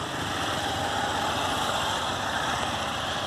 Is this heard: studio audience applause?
no